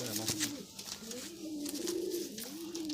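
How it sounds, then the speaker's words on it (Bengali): Soft cooing of stone-eyed pigeons, a few low rolling coos in a row, with background murmur and faint voices nearby. "পাথর চোখের পায়রা দেখুন অবিশ্বাস্য পায়রা"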